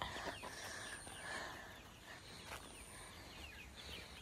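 Chickens on a Philippine farmstay cluck and call in a busy, continuous chatter with a few sharper squawks, fairly close and moderately loud.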